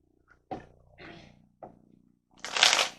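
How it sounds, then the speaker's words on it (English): Tarot cards being shuffled by hand, close and fairly loud: several short riffling bursts separated by pauses, ending in a longer, bright flurry of cards, with no talking. "So let's just grab one tarot card."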